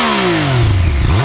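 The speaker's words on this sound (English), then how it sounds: "Now let's get it started and listen to that stock exhaust." A 2020 Yamaha MT-09 motorcycle engine fires up and revs through its stock exhaust, its loud, steady drone rising and falling in pitch over about a second.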